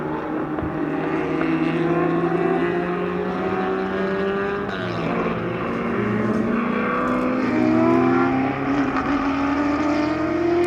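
Racing production cars from the 1960s roar past on a circuit, several engines droning and shifting pitch in a continuous loud pack, rising slightly toward the end, with no talk.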